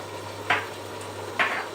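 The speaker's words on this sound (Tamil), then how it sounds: "இப்போ நான் வந்து இந்த ட்ரை ஸ்பைசஸையும் சேர்த்து அதோட சாட்டே பண்ணுறதுக்கு விட போகிறேன்." Tomatoes sautéing with dry spices in a pan for lamb gravy, with a steady low sizzle and two brief scraping stirs about a second apart.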